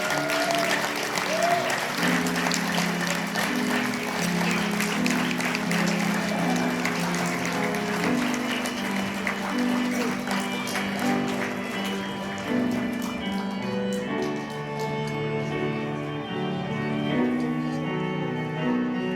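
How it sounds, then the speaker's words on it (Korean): A wedding hall full of guests claps continuously and loudly, sustained applause over background music with steady tones, the clapping thinning slightly toward the end. "큰 박수 부탁드리겠습니다."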